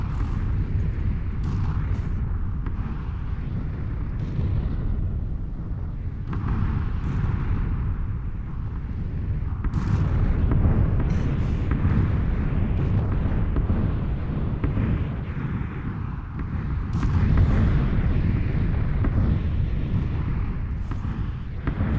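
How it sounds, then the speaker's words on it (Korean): A grenade blows up in the battle game PUBG, sending out booming bursts over a low, steady rumble. The blasts repeat across the stretch at moderate loudness, and no one speaks. "수류탄 날라와서"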